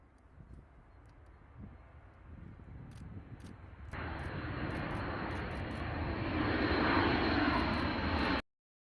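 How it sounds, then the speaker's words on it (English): A fully loaded B-52 bomber taking off down a long runway, its engine roar building from a distant rumble to a loud, sustained wash of jet noise that cuts off abruptly. "Fully loaded, the aircraft used most of the runway before lifting into the air and turning southeast."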